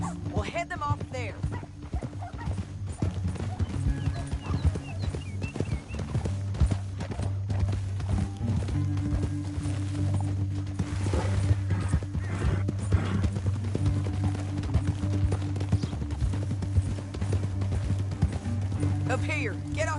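Horse hooves clip-clop steadily in the Western video game Red Dead Redemption 2, a continuous rhythmic clatter heard alongside game music, dogs barking and voices talking.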